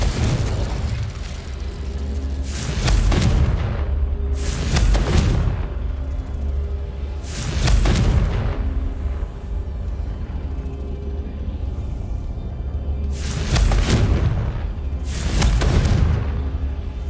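Confringo explosive spells blast repeatedly in Hogwarts Legacy. There are about six loud, booming bursts with rumbling tails, spaced a few seconds apart, over a steady low ambient bed.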